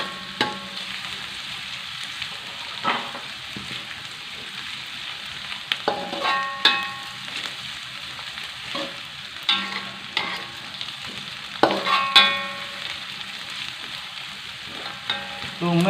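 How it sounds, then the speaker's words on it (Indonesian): Shallots, garlic and ginger sizzle steadily as they are sautéed in a pan, with a constant frying hiss broken by scattered clinks and scrapes of stirring. "Tumis sampai kuning sahabatku ya."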